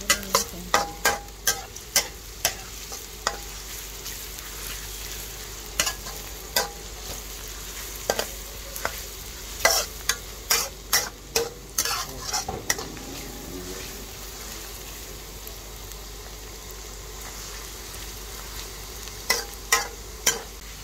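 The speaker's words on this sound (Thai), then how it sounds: "เราก็เจียวกระเทียมให้มันเหลือง" Garlic fries in oil for noodle toppings with a steady soft sizzle, broken by frequent sharp scraping clicks as a utensil stirs against the pan, close and alone.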